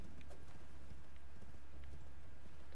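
Horse hooves clop in the video game Elden Ring, a quick rhythmic galloping beat under steady game ambience, loud and close, with no talking.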